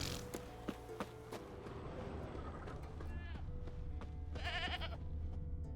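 Goat bleating in The Witcher 3 video game, a wavering bleat rising near the end over steady game ambience, with creaks and talk earlier in the clip.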